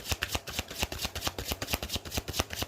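Playing cards are shuffled rapidly and close up during a tarot-style reading, producing a steady run of crisp riffling flicks and snaps that repeat with a quick, even rhythm, with no voices.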